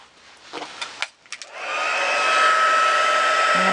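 A heat tool for crafting blows hot air with a loud, steady, hissing whoosh, after some brief soft handling noises.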